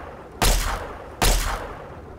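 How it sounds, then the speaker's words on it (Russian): Two heavy sniper rifle shots in the Fallout 3 video game, about a second apart. Each is a sharp, loud boom that tails off with a long, rumbling echo, and nobody speaks. "Кто-то стреляет"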